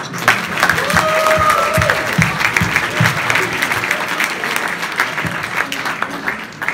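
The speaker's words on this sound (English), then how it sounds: "I think she deserves a round of applause" Audience at a school leavers' meal breaks into warm applause, a dense steady wash of clapping that swells then gradually thins out, with a few voices underneath.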